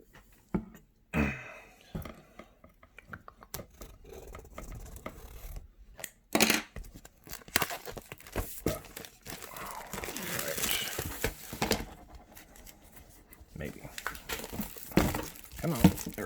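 Packaging of a Kill Team starter set being torn and opened by hand, with crinkling plastic and cardboard rustles, scattered knocks and rattles of parts, irregular and close, with occasional speech in between.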